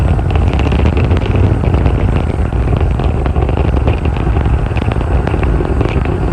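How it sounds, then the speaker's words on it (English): The Merlin engines of a SpaceX Falcon 9 rocket roar continuously during launch, throttled down before max Q, a loud, unbroken rumble with crackling texture and no pauses. "the first stage is throttle down power on the Merlin engines in preparation for max Q"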